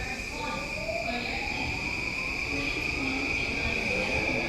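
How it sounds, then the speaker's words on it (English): New train pulling away from a platform at Harajuku Station in Tokyo, a steady rolling rumble with a rising motor whine and a bright high tone held throughout, fairly loud and continuous. "Let's say bye to our train."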